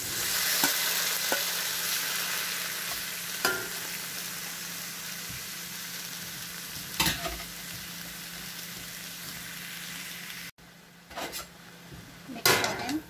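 Mixed vegetables fry in butter in a pan, giving a steady loud sizzle throughout with occasional clinks of a utensil against the pan near the end.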